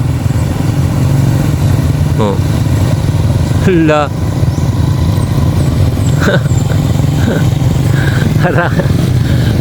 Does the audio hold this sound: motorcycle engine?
yes